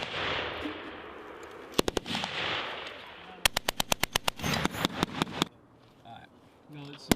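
U.S. Marine Corps machine gun live fire on a range in South Korea: a few isolated sharp shots, then a long run of rapid, loud bursts over radio hiss and voices, ending with quieter talk and one last shot.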